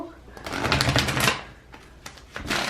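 Tarot cards are riffled in quick papery bursts: a dense flurry of rapid flicks for about a second, then a few sparser snaps, with a voice talking nearby.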